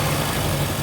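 An old 1980s 16-valve saloon car engine, barn-stored and unused for over 20 years, idles steadily with a low, even rumble, close and alone.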